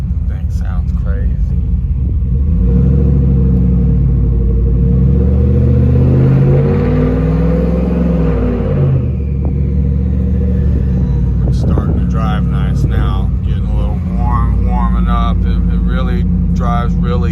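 A forged, cammed and boosted car engine idles roughly on a cold start, its loud deep rumble steady with a swelling rev midway, heard from inside the car alongside occasional clicks and mechanical noise.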